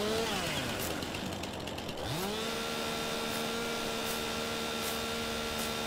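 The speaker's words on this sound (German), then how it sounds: "Eine wild gewordene Kettensäge." A chainsaw whines in the farming game Landwirtschafts-Simulator 19, its engine pitch dropping sharply and then revving back up to a steady high drone, loud and continuous over background game noise.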